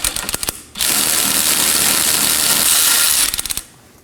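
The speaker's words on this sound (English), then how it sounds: "Now let's remove our bolt." A hand ratchet works loose a rear suspension bolt on a 2018-2024 Chevrolet Equinox 1.5L, with quick clicking strokes, then a fast continuous buzzing run, then more close, loud clicks tapering off.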